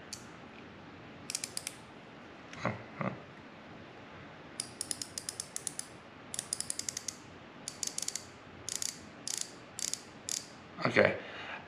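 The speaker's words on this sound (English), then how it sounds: "as I'm screwing this, it's forcing the gun oil up through the inner thing" A First Line gun oil pen, a clip-on CLP oil applicator, is clicked and twisted up close, giving a faint, irregular series of small ratcheting clicks and brief scraping turns over quiet room hiss.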